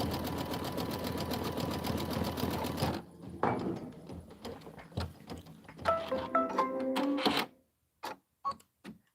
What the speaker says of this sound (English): This is only an 11-minute stitch out.